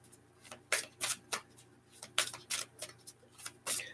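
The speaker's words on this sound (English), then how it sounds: "So I'm pulling a card now for Talia, as you hear me shuffling" A deck of tarot cards is shuffled in quick, crisp bursts of riffling and tapping, repeated in an irregular rhythm at close range with no talking.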